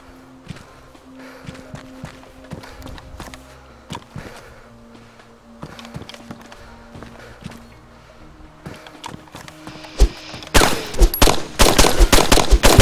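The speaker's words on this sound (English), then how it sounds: "I'm getting shot" Gunfire in DayZ: scattered sharp cracks and footsteps early on, building into a dense, loud burst of rapid shots near the end, with faint voices underneath.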